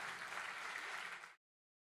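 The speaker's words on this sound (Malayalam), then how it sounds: "സോ ഒരിക്കൽ കൂടി നമുക്ക് നിറഞ്ഞ ഒരു കൈയടി കൊടുക്കാം" An audience at an award stage event applauds in a dense, even wash of clapping that holds steady and then cuts off abruptly, heard quietly from a distance.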